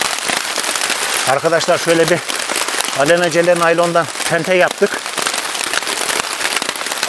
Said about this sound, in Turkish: Vallahi çok şiddetli yağmur yağıyor oğlum.